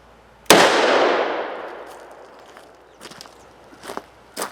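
A single sharp .357 Magnum gunshot cracks into a ballistic gel target, close and loud with a long decaying outdoor echo, followed by a few faint knocks and clatters.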